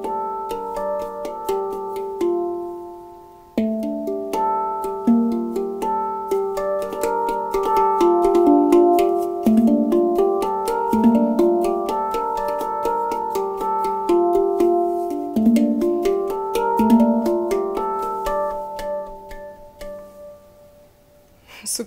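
A 48 cm mini hang drum (handpan) in G pygmy tuning is played melodically: soft, ringing metallic notes in flowing, overlapping phrases for about twenty seconds, with a brief pause near the start.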